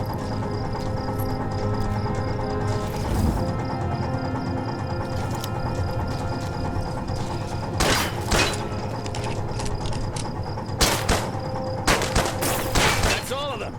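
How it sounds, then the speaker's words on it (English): Rapid bursts of video game gunfire aimed at helmets on a training range, sharp crackling volleys around the middle and near the end over a steady loud background of music and mechanical game sounds. "Now shoot these helmets. Run and gun."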